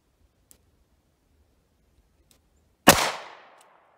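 A single sharp Ruger LCR .38 Special revolver shot fired from 5 feet away, loud and close, with a bright crack and a short decaying tail after a few faint ticks.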